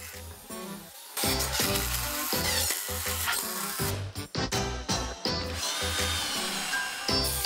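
A power drill drives 3-inch deck screws through butt joints into wooden table legs, whining loudly in several bursts with short pauses between, close and dominant.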